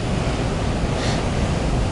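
Huge storm waves rolling onto the shore at Lantic Bay, a steady loud wash of surf and wind roar with no distinct breaks, no speech.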